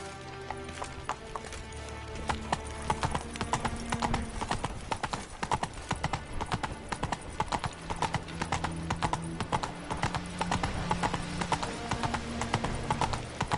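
Roach the horse in The Witcher 3, a steady rhythmic clip-clop of hooves, close and loud throughout, over a backing of game music.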